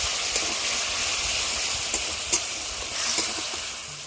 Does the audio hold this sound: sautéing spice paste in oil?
yes